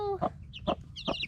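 A mother hen with her chicks clucks in three short, close bursts, with faint high peeps from the young birds in between.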